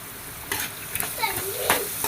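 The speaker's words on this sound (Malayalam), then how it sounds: "ഇങ്ങനെ എണ്ണയിൽ തന്നെ വഴറ്റിയെടുക്കണം" Sliced bitter gourd and onion sautéing in oil, a soft steady sizzle broken by a few scraping stirs of a spoon against the pan, close and moderately loud.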